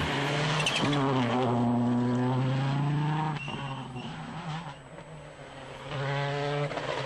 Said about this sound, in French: Alors on retrouve une autre Skoda, mais cette fois-ci c'est une Skoda WRC avec à son volant David Bonjean.